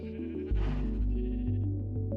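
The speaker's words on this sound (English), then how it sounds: "So we have a bunch of yellow sheep now." Yellow sheep in a Minecraft SkyFactory 3 animal pen bleat loudly and close, a few tonal calls in quick succession with a steady synthetic background tone beneath, no talking.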